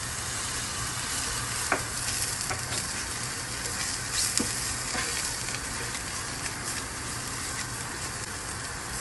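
Flour added to chicken in a frying pan gives a continuous close sizzle with a few sharp crackles and soft stirring scrapes, with no voices.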